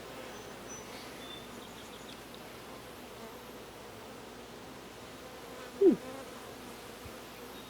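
Honey bees hum softly around an open hive in a quiet, continuous, distant drone, with a single brief louder buzz as one bee passes close.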